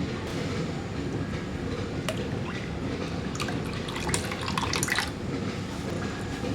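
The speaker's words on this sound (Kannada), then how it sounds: "ನೋಡಿ, ಈ ಬೌಲಷ್ಟು ಹುಣಸೆ ಹಣ್ಣಿನ ರಸ ಹಾಕೋತಾ ಇದ್ದೀನಿ." Tamarind juice poured into a bowl while preparing panipuri water, a soft, continuous liquid trickle and splash with a few small clinks, fairly quiet and without talk.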